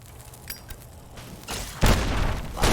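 Dynamite explosion in Fallout: New Vegas, a loud deep boom erupting after a quieter stretch, followed by a second blast at the close, with rumbling debris between.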